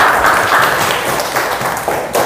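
Audience in a classroom guidance session clapping hands together, a steady dense patter of applause at moderate level that holds for a couple of seconds, alone without talk.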